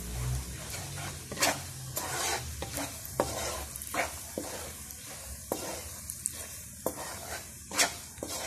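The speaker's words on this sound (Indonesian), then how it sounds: "Kacau ya. Bagi rempah sebuk tu masak ya." Beef curry powder is stirred in a hot pan, with a spoon scraping in repeated strokes over a steady close sizzle; no one speaks.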